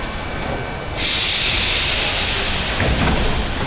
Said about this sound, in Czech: Dokonujte výstup a nástup, ty dveře se zavírají.